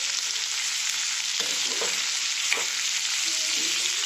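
Sliced onion sizzles loudly in plenty of oil in a pan for a dry Marathi-style onion bhaji, a constant dense hiss with a few scraping stirs from a spatula partway through, no voices.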